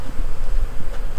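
Honey bees buzzing at an open hive frame holding unripe nectar, a steady, close, loud drone with no talk over it.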